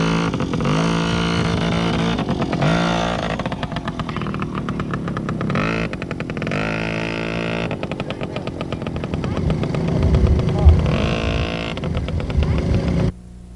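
The engine of a rental off-road vehicle near Palm Springs revs hard and sputters in uneven bursts, then pulls away with rising and falling throttle, loud and close.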